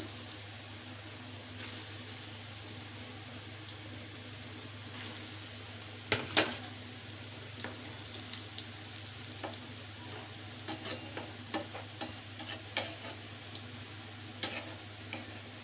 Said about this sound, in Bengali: এখন আমি এই চপগুলোকে ভেজে নিচ্ছি